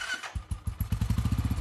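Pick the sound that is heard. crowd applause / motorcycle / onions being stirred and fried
motorcycle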